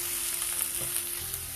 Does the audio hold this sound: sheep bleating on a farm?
no